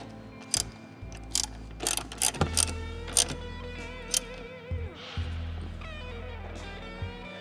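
A ratchet cranks down a bolt on a car's door striker being fitted with a billet Delrin bushing, giving quick clicking bursts of pawl ticks up close, with short pauses between strokes.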